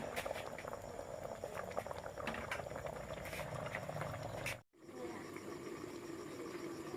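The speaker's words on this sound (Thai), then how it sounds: "ต้องต้มไว้สักพักครับ เพราะหนังเค็มมันจะมีความเหนียวครับ" A pot of Isan-style curry with salted beef skin bubbles at a steady, continuous boil, loud and close throughout, with a brief dropout near the end.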